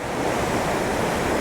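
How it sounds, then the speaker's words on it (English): Rushing water of the Garavogue River in Sligo town, Ireland, a short river flowing like a torrent: a steady, loud broadband roar close by, continuous with no pauses. "The river here, look, it's like a torrent of a river."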